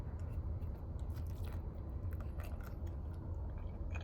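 Close, steady chewing of tender chashu pork from Kajiken soupless ramen, with soft, moist crunching and smacking that continues throughout without speech.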